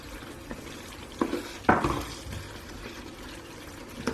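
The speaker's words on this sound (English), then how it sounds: "Just going to add a touch of water because this dries up very quickly once it's off the heat." A splash of water goes into a pan of chicken bhuna masala gravy, giving a few brief pours and a spoon stirring and scraping against the pan, close and moderate against a quiet kitchen background.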